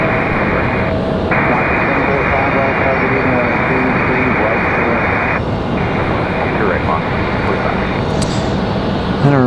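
A steady, loud roar of an arriving airliner, Moxie 745 in from Portland, landing at Raleigh-Durham International Airport, a continuous broadband engine rush that holds for the whole stretch, with faint radio-like chatter mixed in.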